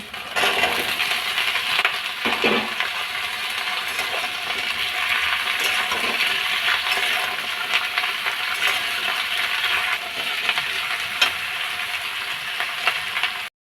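Taro stolons (kochur loti) hitting hot oil in a frying pan, giving a steady, close, dense sizzle with scattered crackles and small clinks running the whole time, no voices.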